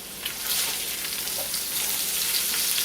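Potatoes and onions fry in a pan to brown and crisp, giving a steady, close, even sizzle with a dense hiss that holds without a break and has no talk over it.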